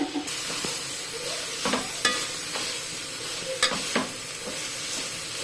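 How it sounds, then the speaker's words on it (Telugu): Ginger garlic paste fries in hot oil for a vegetable biryani, a steady close sizzle broken by the scrape and clack of a spoon stirring the pan. "ఒక 3 minutes మంచి ఆయిల్లో ఉడకబెట్టుకోవాలి."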